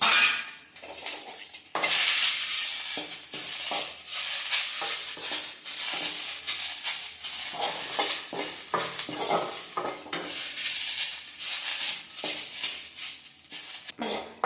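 Curry leaves dry-roasting in a pan for idli podi crackle and rustle as a spatula stirs and scrapes repeatedly, close and steady with rhythmic scraping strokes throughout.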